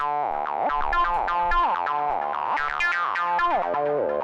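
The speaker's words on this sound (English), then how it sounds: "where you can hear the filter moving" A synth tone repeats in quick notes while its filter, driven by a free-running LFO, sweeps up and down in a steady cycle, giving a wobbling, bouncy, evolving sound.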